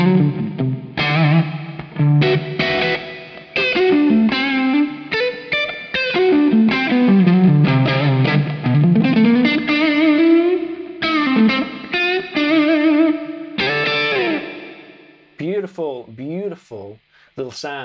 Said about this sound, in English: Let's turn the enhancer on and just hear how that impacts things.